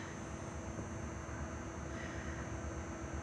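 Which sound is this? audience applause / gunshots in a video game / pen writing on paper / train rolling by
train rolling by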